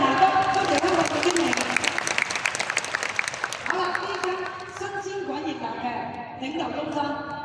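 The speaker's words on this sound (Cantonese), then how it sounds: "謝謝大家掌聲" A crowd applauds at a leadership centre opening event, brisk clapping that starts loud and thins out while an amplified voice talks over it.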